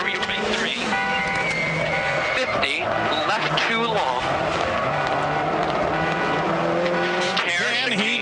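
Rally car racing flat out through corners, engine screaming and shifting with tire noise, loud and continuous, while a commentator talks over it.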